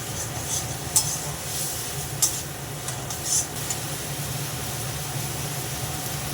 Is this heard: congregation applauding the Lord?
no